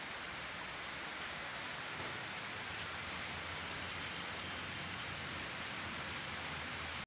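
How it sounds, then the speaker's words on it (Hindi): Heavy rain pours steadily in a dense, unbroken hiss of drops striking surfaces nearby, holding constant and loud for the whole stretch with no voices. "और पानी गिर रहा है जोरदार"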